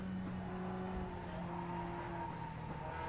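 Mazda MX5 race cars at Okayama International in the iRacing sim, one overtaking another: a steady engine drone with layered whining tones, faint and continuous with no talk.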